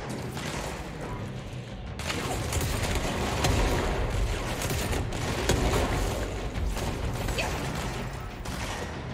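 Enemy gunfire in the video game Control, a dense continuous clatter of shots and mechanical rattling that swells after the first couple of seconds and stays loud throughout.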